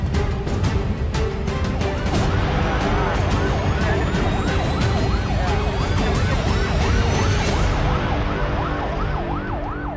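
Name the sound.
ambulance siren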